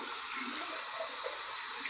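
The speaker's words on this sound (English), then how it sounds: "I'm going to run it under some warm water" Warm tap water runs steadily while a shaving brush is rinsed, a soft continuous splashing hiss with slight gurgles, close and without speech.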